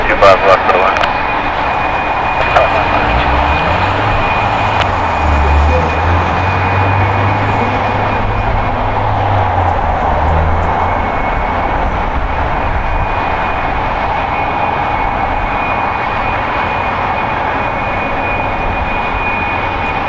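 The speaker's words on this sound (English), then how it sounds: "British Airways Flight 283 coming in from London Heathrow, a 10-hour and 5-minute flight on an Airbus A350 1000, 2 years old, landing on 25 left" A two-year-old British Airways Airbus A350-1000 lands on runway 25 left at LAX, a low steady rumble with a thin whine running underneath while a voice talks over it throughout.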